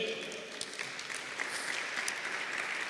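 Church congregation applauding during a sermon, steady mid-distance clapping across the whole stretch with faint voices mixed in.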